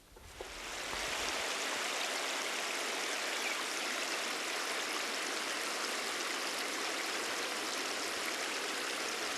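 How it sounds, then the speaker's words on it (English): A shower runs steadily in an outback campsite on a Cape York trip, a broad, even hiss of spraying water close by that starts abruptly and continues alone. "So I'm going to go and have a shower instead."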